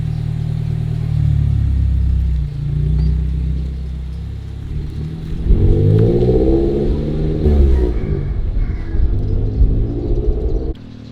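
A Lamborghini Aventador SVJ engine revs and accelerates on a track, with rising and falling tones and a loud rumble as it speeds past nearby.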